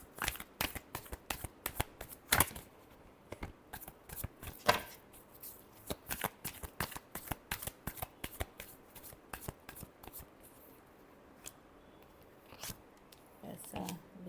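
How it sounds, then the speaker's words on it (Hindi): Tarot cards are shuffled by hand in quick riffling bursts of crisp, papery slaps and clicks, close and fairly loud, with brief pauses between bursts. "Last shuffle."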